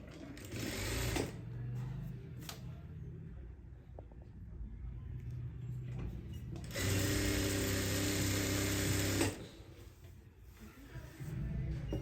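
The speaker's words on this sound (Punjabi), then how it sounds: "ਇਸ ਤਰ੍ਹਾਂ ਹੁਣ ਇਹਨੂੰ ਵੀ ਆਪਾਂ ਨੀਚੇ ਤੋਂ ਉੱਪਰ ਨੂੰ ਸਲਾਈ ਲਗਾਵਾਂਗੇ" A sewing machine stitches a lined salwar in short bursts, its rapid mechanical whir starting and stopping, with a longer run near the end and handling noise between bursts.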